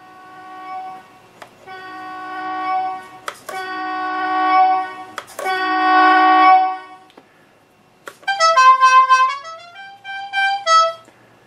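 Horn effect from a Beier sound module in a model car, sounding as sustained multi-tone train-style blasts, several long loud honks followed by a shorter rising melodic horn sequence, alone without talk.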